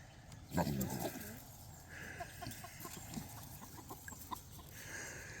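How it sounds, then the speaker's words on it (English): Chickens on a homestead cluck and squawk in an agitated burst, with a loud close squawk at the start followed by steady scattered clucking from several birds. "Got the chickens stirred up that time."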